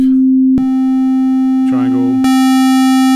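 A Waldorf Iridium synthesizer's pure sine tone hums steadily, briefly joined by a brighter buzzy tone, before a harsher, harmonically rich synth tone takes over near the end.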